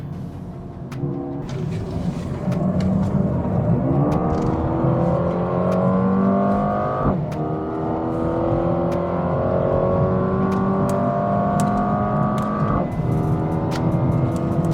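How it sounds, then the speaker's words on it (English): A loud 2022 Mercedes-AMG A35 engine revs up steadily on the Sepang circuit, pitch climbing then dropping sharply at two ferocious gear changes, close and continuous. "The gear changes on this car are properly ferocious."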